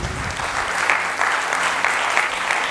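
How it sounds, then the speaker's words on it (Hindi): Audience applause filling a hall, dense steady clapping from many hands, moderately loud and continuous throughout. "तो एक जोरदार तालियां होनी चाहिए"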